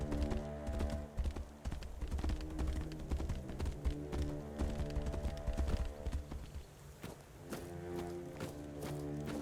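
Hooves clip-clop steadily as a horse is ridden in the Tainted Grail: Fall of Avalon video game, a continuous rhythmic trot layered over game ambience and music.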